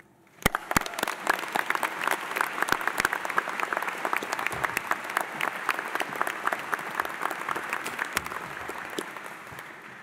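Applause from a convocation audience welcoming a speaker breaks out after a short quiet start, a dense, sustained clapping of a large crowd that stays loud and even for around ten seconds.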